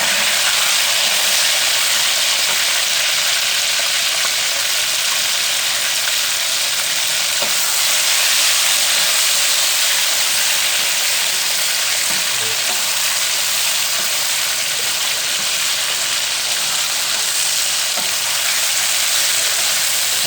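Chicken sizzles and fries steadily in hot ghee in a kadai with bay leaf, a dense, loud, continuous hiss that holds unbroken throughout with no talking over it.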